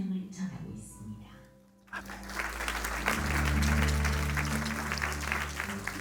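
A church congregation claps and applauds together during a sermon, the applause swelling after a short quiet pause and continuing steadily, with a low hum and some voices underneath.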